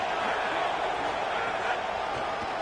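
Home crowd at a football game roaring in a steady, dense wash of cheering and shouting, sustained and fairly loud throughout without a break.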